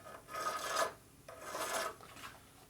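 A metal file rasping along the edge of a chrome part on a Harley Shovelhead motorcycle build, two slow, steady strokes with a short pause between, close and moderately quiet.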